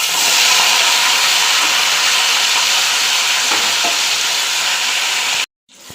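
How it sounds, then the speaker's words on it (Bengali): Fish frying in hot oil for a Bengali mustard fish curry, a loud continuous sizzle and hiss held close for over five seconds with a faint stir or two, then an abrupt cut. "মাছ ভাজা হয়ে গেছে, তুলে নেব।"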